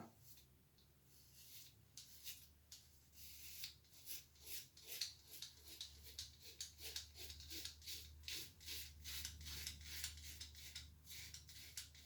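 A Gillette Labs heated razor drags across stubble in steady, rhythmic rasping strokes, close and fairly quiet, repeating over a low background hum.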